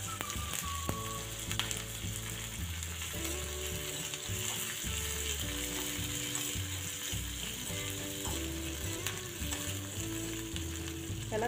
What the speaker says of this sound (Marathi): त्याला तेलात छान परतवून घ्यायचं।